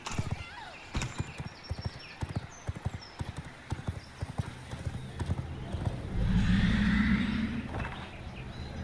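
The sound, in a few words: horse hooves from a video game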